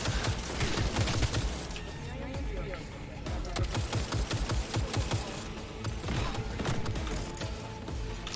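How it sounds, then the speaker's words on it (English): Turret cannon fire in the video game Cyberpunk 2077, a dense, continuous barrage of rapid mechanical shots and impacts with crackling bursts, loud and busy throughout under other game noise. "I am using a turret cannon right now"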